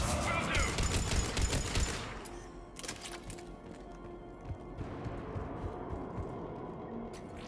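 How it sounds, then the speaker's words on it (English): Rapid gunfire crackles in a sci-fi shooter game, Mass Effect 3, with dense bursts of shots at first, then scattered sporadic shots over a steady rumbling background. "Shepard, I hear gunfire."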